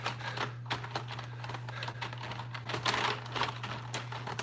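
Computer keyboard keys are pressed in quick, irregular bursts of close clicks on a desk, over a low steady electrical hum, with no talking.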